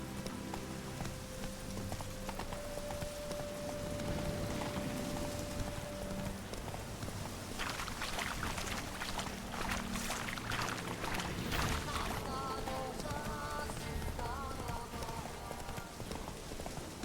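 Horse Roach's hooves clop steadily in The Witcher 3: Hearts of Stone, a continuous gait under game music and ambient noise, with a louder, busier stretch midway.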